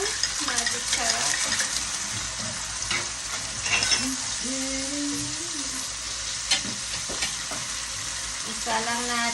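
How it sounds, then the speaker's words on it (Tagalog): Chicken pieces sizzle loudly and steadily in a frying pan for chop suey, with stirring scrapes and occasional utensil clinks, while a voice murmurs faintly in the background. "Pa-brown lang natin yung chicken."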